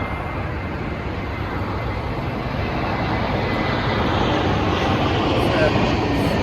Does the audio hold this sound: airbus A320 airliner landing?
yes